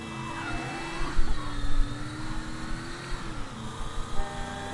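A car in the Mafia III video game drives close by, its engine revving and rising in pitch over a steady noisy game background, with no talk heard.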